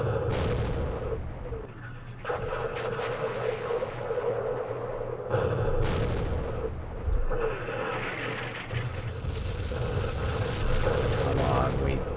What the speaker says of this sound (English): the airstrike came. Napalm, the last airstrike of the day